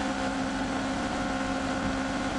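A rallycross car's engine is held at steady high revs on the start line at Mettet, round three of the RX Championship, giving a constant, droning roar with no talk over it.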